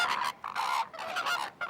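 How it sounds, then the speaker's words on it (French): Flamingos calling at a lagoon on a windy day, a flock of nasal, goose-like honks rising in three or four clustered bursts separated by brief pauses, loud and close, with no voices. "il y a pas mal de flamands qui sont venus peut-être se réfugier ici avec le grand vent qu'on a aujourd'hui"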